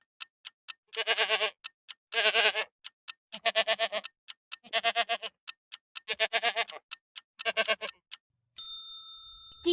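A goat bleats six times in long, wavering calls, evenly spaced and close, over a soft ticking beat, followed by a brief ding.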